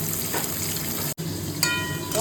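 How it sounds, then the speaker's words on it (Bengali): Fish fries in oil with a steady, dense sizzle throughout, briefly cutting out midway, with faint clinks and scraping alongside. "মাছ ভাজা হচ্ছে"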